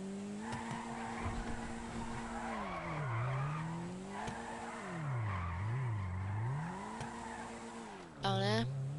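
Tires squeal and skid in long wavering tones as a car drifts in GTA, the engine note rising and falling beneath, with a sharper screech near the end and voices talking over it.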